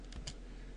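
A couple of quick keystrokes on a computer keyboard while a command is entered in a terminal, close but soft and lasting under a second.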